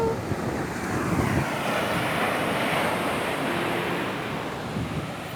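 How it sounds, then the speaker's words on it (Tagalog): Steady roar of waves washing onto a shore, continuous and fairly loud with a windy, breathy hiss over it. "Sarap dito sa tabing dagat."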